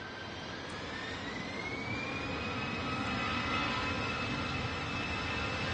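An EasyJet jet airliner takes off from Manchester Airport in stormy, windy weather, its engines producing a loud, sustained roar with a rising whine under constant wind noise.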